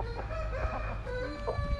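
A giant Indio rooster crows once, loud and close, in a long harmonic call over steady farmyard background noise.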